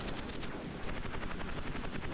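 A 1989 SNK arcade game fires off rapid, dense machine-gun bursts over a throbbing helicopter rotor, a continuous, harsh, loud barrage with rhythmic pulsing and no talking.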